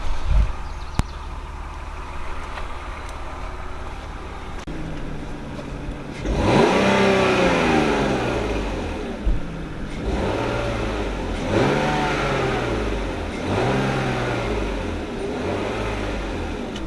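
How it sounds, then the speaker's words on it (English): A BMW E46 car engine runs at idle, then revs up in several rising and falling sweeps, close and fairly loud, with no talk over it. "It actually sounds perfect now after shutting it off and turning it back on."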